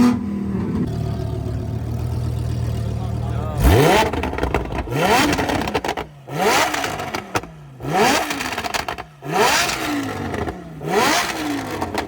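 A Lamborghini engine at a crowded California car meet idles, then revs hard in a series of about five loud, close throttle blips that rise and fall, with someone talking over the start.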